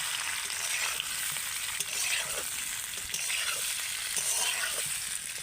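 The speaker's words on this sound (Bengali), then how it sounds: "এবার আমি হালকা করে একটু নেড়ে চেড়ে ভেজে নেব এটাকে" A savory snack mixture fries lightly in a pan with curry leaves, giving a constant close sizzle broken by occasional soft stirring scrapes and taps.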